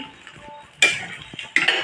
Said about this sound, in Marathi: मस्तपैकी भाजून घ्यायचं जोपर्यंत पिवळा रंग येत नाही